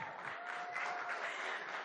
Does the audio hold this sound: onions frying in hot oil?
no